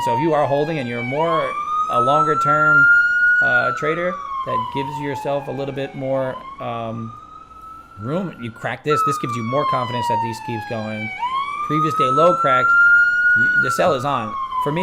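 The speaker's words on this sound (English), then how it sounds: "Let me get rid of that siren for you." A police siren sound effect plays on a live stream, wailing in long rising and falling sweeps throughout at steady volume, with someone talking continuously over it.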